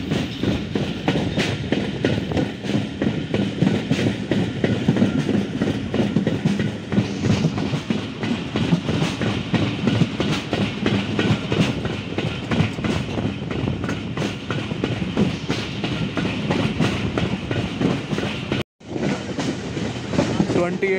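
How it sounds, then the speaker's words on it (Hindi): The Khyber Mail passenger train rolls loudly and steadily through Jamma Sattha Junction past a freight yard, with continuous close rumble and rhythmic clickety-clack of wheels over rail joints. "वन अप खैबर मेल, और अभी फ्रेट यार्ड से पास हो रहे हैं जमा सट्ठा जंक्शन रेलवे स्टेशन से"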